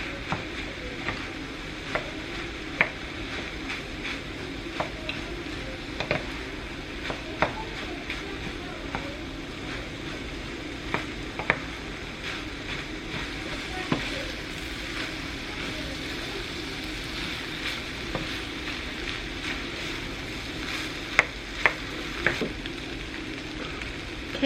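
Rice frying in a big pan and being stirred, with a steady sizzle and a scrape or clack from the utensil every second or two, fairly faint and close.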